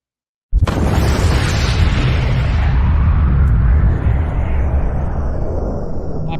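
A loud explosion bursts suddenly out of silence, then rolls on as a long, heavy rumble that slowly thins over several seconds.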